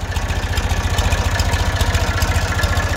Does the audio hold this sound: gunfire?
no